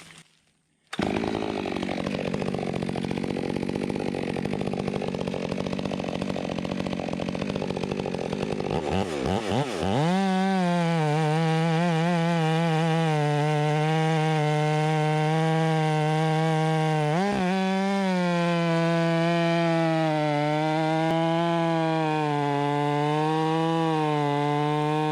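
A Stihl MS462 chainsaw cuts through a firewood log butt end in the woods, roaring steadily under load for several seconds before settling into a loud, sustained high rev with a brief dip partway.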